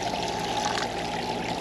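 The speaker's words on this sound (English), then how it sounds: "Just gonna finish watering these plants with this bottle of water here." Water from a bottle pours steadily onto cactus plants, a continuous close splashing trickle with no talking.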